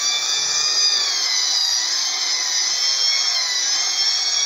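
Homemade plastering machine spraying render onto a wall, a continuous high whining drone held at steady loudness throughout, close by.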